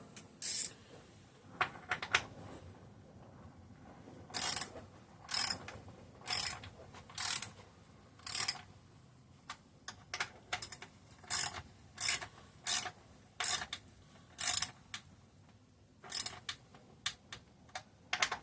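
A socket ratchet works on a Homelite 330 chainsaw, about fifteen crisp bursts of rapid clicking in irregular strokes, fairly close and clear with no talk.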